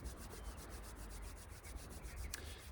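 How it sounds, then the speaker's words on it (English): Hands rubbing together briskly at the end of a grounding relaxation practice, a soft, steady, close dry friction with a faint rhythmic swish throughout. "making sure you're fully back in your body, rubbing your hands together."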